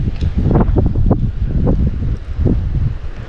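Wind buffets a microphone on a coastal walk along the Isle of Wight, a loud, continuous rumbling roar with gusty surges and no speech.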